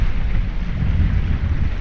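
Strong wind buffets the microphone at a lakeside fishing spot, a loud, continuous low rumble with no voices.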